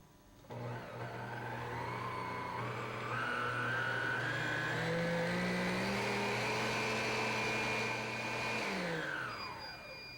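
Cuisinart mixer running at speed 12 while mixing cornstarch and salt: a steady electric motor whine that starts abruptly, rises slightly in pitch as it holds, then winds down near the end, close and loud without any talking.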